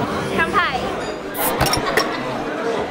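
Glasses clink together in a toast at a Taiwanese cultural festival gathering, several bright sharp chinks around the middle of the clip amid lively crowd chatter and cheering voices.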